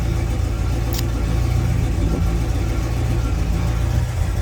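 A fully restored 1972 Oldsmobile 442 convertible with a 455 engine and automatic transmission runs steadily up close, a continuous low engine rumble with no talk over it.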